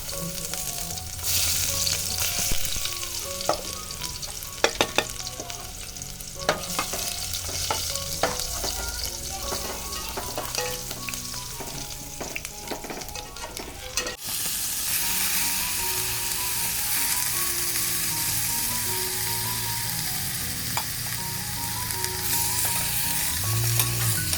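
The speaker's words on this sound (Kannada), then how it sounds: "ಎಣ್ಣೆ ಕಾದ್ಮೇಲೆ ಒಗ್ಗರಣೆಗೆ ಈರುಳ್ಳಿ" Onions sizzle and crackle loudly in hot oil as a tempering for chicken sambar, with intermittent stirring scrapes early, then a steady intense frying hiss.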